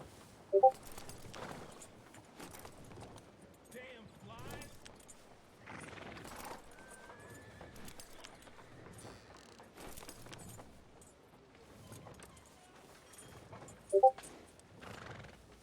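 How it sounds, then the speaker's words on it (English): Horses in the Red Dead Redemption 2 game whinny sharply twice, near and loud at the start and end, with steady hoof clip-clop and some jangling tack running underneath throughout. "Oh, I heard horses and got excited."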